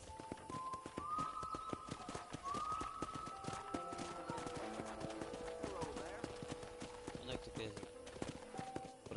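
Horse hooves clip-clop steadily in Red Dead Redemption on PS4, a close, rhythmic run of hoofbeats across the whole stretch, mixed with game ambience and tonal music while a voice talks over it.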